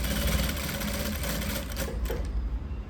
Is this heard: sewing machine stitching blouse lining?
yes